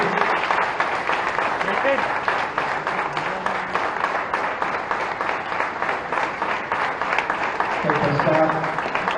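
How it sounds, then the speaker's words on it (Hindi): Loud audience applause at a public gathering in Bhopal, continuous dense clapping with a few brief voices rising underneath near the end. "तालियां कम नहीं होनी चाहिए, ताकि यही जोरदार रखी है आप सभी की ओर से।"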